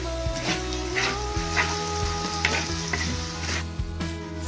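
Chives stir-fried with glutinous rice dumplings in a wok, a steady sizzle under repeated scraping strokes of the spatula, close and continuous, with a faint whimpering sound in the background.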